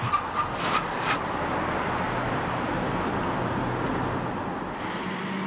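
A car is braking to a halt at a pedestrian crossing on a road: a steady, fairly loud tyre-and-road rush with a few brief sharper bursts near the start, easing slightly toward the end.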